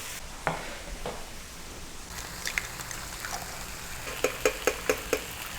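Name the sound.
bacon and eggs sizzling on Drew Barrymore's oiled griddle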